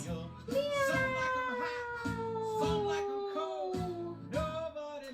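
Children in a Hanukkah yoga class voice long, drawn-out cat meows one after another, imitating a cat, with talk between them.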